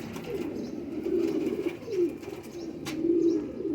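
Pigeons kept for sun flying cooing in low, soft, rolling phrases that repeat across the moment, moderately close, with faint chirps and rustles in the background and no voices.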